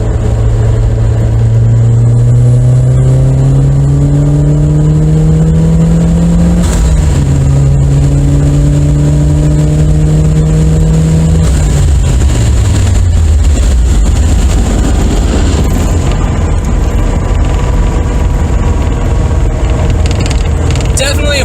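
A turbocharged Toyota MR2 engine revs and accelerates with the window rolled down, a loud, rising drone that climbs in pitch, drops at a gear change, then climbs again before settling into steady road noise.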